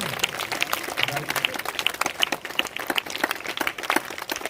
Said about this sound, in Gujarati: જોરદાર તાળીઓથી વધાવીએ ભાઈ